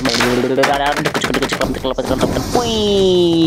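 Rapid bursts of automatic gunfire from a mobile mecha shooter video game crackle loudly and almost continuously, with sharp repeated shots and a rising mechanical whine near the end.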